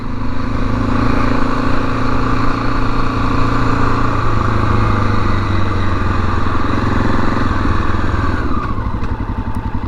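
A 1987 Honda XL600R motorcycle engine runs loud and steady on the road, its low, throbbing exhaust note continuous from start to finish with no voices.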